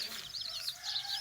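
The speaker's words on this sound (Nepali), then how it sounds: "यहाँ चाहिँ लोकल कुखुरा छ।" Local chickens cluck and chirp softly in a farmyard, a brief, faint stretch of overlapping high calls with no talk.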